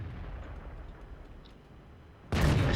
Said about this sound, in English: Put our first shot into the Type 61.